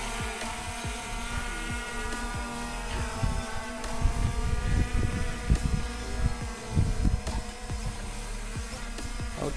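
Steady high-pitched motor whine with layered harmonic tones from MJX B20 EIS drone rotors in flight over the sea in strong wind, continuous throughout with some low rumbling bumps and gusts.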